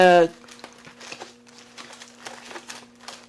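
A sheet of holographic rainbow foil for toner foiling is handled close up, giving soft, irregular crinkling and rustling after a short vocal sound at the start.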